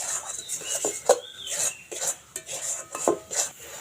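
Mango sondesh mixture being stirred in a wok, a spatula scraping and knocking against the metal in irregular close strokes with short pauses between them.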